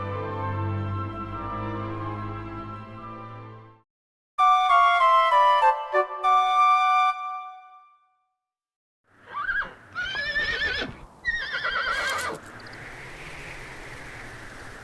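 A horse neighs and whinnies in several separate bursts, with clip-clopping in between, as game sound effects from Dragon Quest VIII, loud and up close with pauses between calls.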